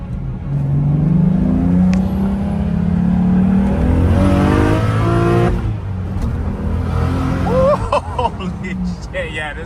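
A single-turbo BMW N54 car accelerates hard, its engine note rising steadily inside the cabin under continuous talk, with a short spoolish whine and a brief flutter near the end.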